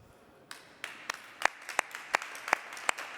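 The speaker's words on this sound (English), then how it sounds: "All right, applause from here" Sparse clapping from a small group or a single person at an online demo day presentation, about a dozen distinct, crisp claps in loose rhythm, fairly close and alone.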